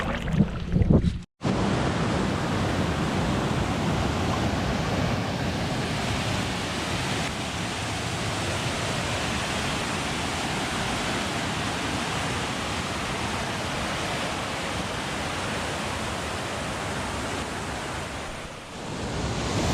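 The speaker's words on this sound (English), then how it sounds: "there's this cool falls through the woods right here" Waterfall at Otterslide Creek in Algonquin Park woods, a steady broad roar of rushing water that fills the whole clip, close and constant, after a brief bump near the start.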